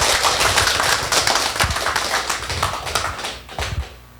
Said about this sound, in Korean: 한번 박수 크게 쳐보세요.